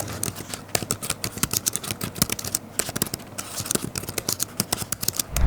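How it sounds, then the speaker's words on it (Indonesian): Rapid clicky key presses on the Lenovo Idea Tab 11 keyboard, a dense run of crisp, close taps in an uneven typing rhythm, heard alone. "Kalau dari segi keyboardnya itu memang agak clicky berasanya."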